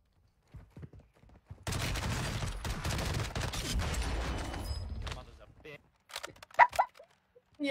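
Rapid video game gunfire, a dense burst of shots lasting a few seconds, set between short bursts of excited talking from players.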